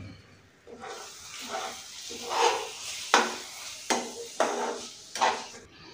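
A spoon stirs a paste of ground cashews and melon seeds through a pan as it cooks for a potato and paneer dish, giving repeated scraping strokes and a soft sizzle, fairly close, with no talking.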